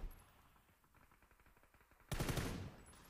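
A rapid string of gunshots fired at a wall in PUBG rattles off in quick succession, then a louder, sustained burst of noise takes over and gradually fades.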